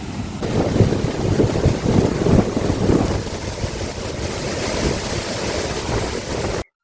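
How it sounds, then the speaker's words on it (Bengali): Waterfall water at Mahendragiri rushing in a steady, dense roar close by, with wind buffeting the microphone and no voices. "দেখুন এই ঝর্ণার জল"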